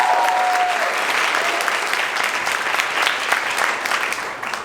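An audience claps steadily and warmly throughout, a dense, sustained round of applause at an event celebrating women's friendship, with no voices standing out.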